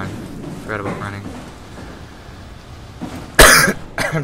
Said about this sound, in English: I'm sorry, I coughed right to the mic.